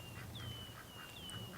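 Several ducks quacking outdoors in an open, windy spot, soft repeated quacks scattered across the moment over a constant low rumble of wind, with a thin steady whistle-like tone running through.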